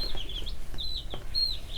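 Dorking hen on a backyard chicken farm, giving a few short, close clucks and vocal calls with a faint flutter, no talking.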